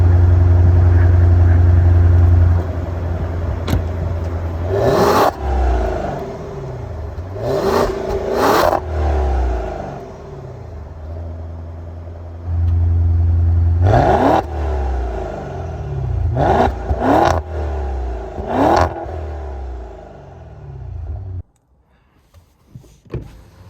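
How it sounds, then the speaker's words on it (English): A 2023 Maserati Ghibli Trofeo with a V8 drives and revs, its deep engine rumble rising and falling through several loud rev sweeps and gear changes, close and continuous before cutting off near the end. "let's hop inside and drive the Ghibli Trofeo"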